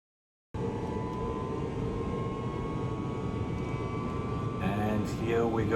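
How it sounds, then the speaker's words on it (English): A widebody airliner on its takeoff run, heard from inside the glass nose: a steady loud engine roar rises out of silence and holds, with a climbing whine near the end. "Aviation 76 takeoff, seen out of the glass nose."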